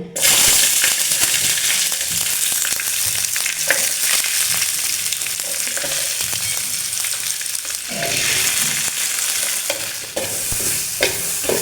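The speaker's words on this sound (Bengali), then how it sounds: "এখন এগুলো আমি তেলের পর ভেজে নেব" Dried fish, green and dried chilies, garlic and onion fry in oil with a loud, continuous sizzle, broken by frequent scraping and stirring clatter close by.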